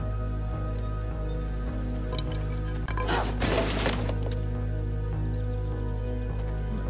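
Objects smashing and glass shattering in the video game Life Is Strange: a single burst of crashing, splintering debris lasting about a second, over a steady low electronic hum with faint periodic clicks.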